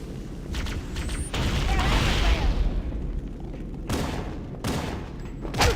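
Gunfire in Halo: Combat Evolved arrives as scattered shots and a longer rattling burst amid ambient game noise, moderately loud and irregular in spacing.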